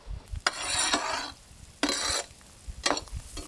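River mussels frying in oil while being stirred, three bursts of close sizzling and scraping separated by brief quieter pauses.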